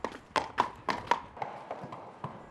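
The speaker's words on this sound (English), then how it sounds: "The horse stops at a training area." Hooves of a horse clip-clop on a hard surface in Hungary, a quick uneven run of crisp taps close by that slows and grows fainter as the horse comes to a stop.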